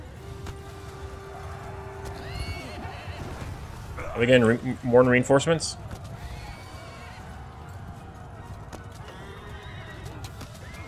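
Horses whinny and neigh in a Bannerlord Game of Thrones mod battle, with clip-clop hooves beneath; two loud neighing bursts stand out midway, while someone talks over the field noise before and after.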